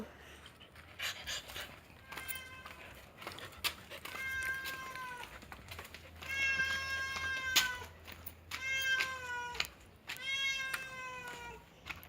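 A cat in a family home meows repeatedly in drawn-out, rising and falling calls, with short pauses and soft breathy sounds between them, close and fairly loud.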